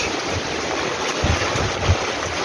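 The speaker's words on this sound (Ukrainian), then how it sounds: "Нарешті довгожданий дощ на Хмельниччині. Дивіться, ну, дощ. Дощ йде." Steady rain pours over farmland in a Khmelnytskyi region village, a dense even hiss holding throughout with a couple of low thumps and no speech.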